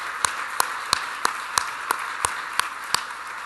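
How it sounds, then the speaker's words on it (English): Sparse, evenly spaced claps from an audience at a 2017 sustainability symposium, about ten crisp hand claps in a steady rhythm, moderately faint against a quiet room. "I think we should give a round of applause to Sarah and Ron and her entire team"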